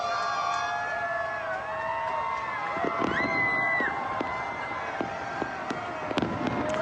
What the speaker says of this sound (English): Thousands gathered to watch spectacular fireworks displays at the world's tallest skyscraper